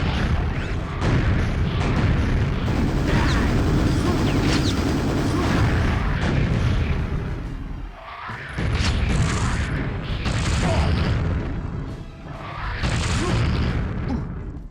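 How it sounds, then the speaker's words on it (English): Rocket explosions boom repeatedly while fighting the Overlord, a large wraith boss in Quake, forming a loud, dense barrage of blasts with brief lulls between volleys. "Just spam it with rockets."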